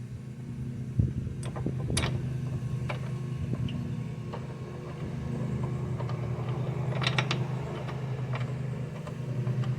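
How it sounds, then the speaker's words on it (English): Bolts being fitted back into the lower control arm of a 2001 Subaru Outback during a bushing replacement: sharp metallic clicks and taps, close by, scattered irregularly over a steady low mechanical hum. "let's put the bolts back in"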